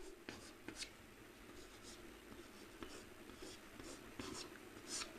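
Chalk or marker scratches and taps across a board during a class 12 math lecture, coming in short irregular strokes with quiet pauses, close and faint.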